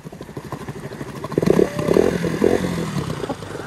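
A motorcycle engine, a Royal Enfield Bullet, keeps running while the bike sits stuck deep in water on an off-road trail. The rough, uneven idle builds louder partway through with clattering, over steady background noise.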